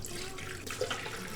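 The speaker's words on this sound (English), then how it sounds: "we are gonna start with half a cup of apple juice and half a cup of just water" Half a cup each of apple juice and water poured into a Vitamix blender, a steady close liquid splash and trickle that runs without a break and has no voices over it.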